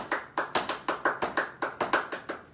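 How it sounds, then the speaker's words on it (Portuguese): Tap dance steps mixed with hand claps in an intermediate tap lesson: about sixteen crisp, evenly spaced percussive hits in a quick, steady rhythm, close and clear with no talking. "depois disso a gente incluiria então tap com duas e três palmas"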